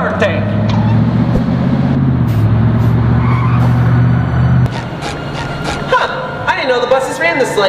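A bus arriving late at night, its engine rumbling loudly with a sustained low drone, then cutting out, followed by hissing brakes and scattered squeaks.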